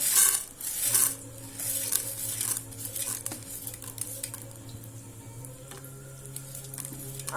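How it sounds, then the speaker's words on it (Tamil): Dried red chillies and lentils fry in hot oil with a steady, low hiss of sizzling, broken by scraping and clinking of a spoon against the pan. "வரமிளகா வந்து கொஞ்சம் ஃப்ரை ஆகட்டும்"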